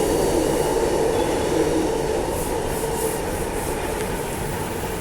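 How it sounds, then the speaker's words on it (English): Perth to Midland train passing close by, a loud continuous rumble of wheels on rails with a faint high squeal, heard alone with no talk. "Here it is. Perth to Midland train."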